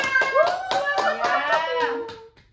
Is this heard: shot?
no